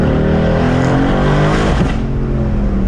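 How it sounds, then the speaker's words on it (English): A muffler-deleted Mercedes-AMG C63 S turbocharged engine revs hard and steadily, a loud throaty roar with rising and falling pitch, close by and continuous with no voices. "The turbo sounds so good, though."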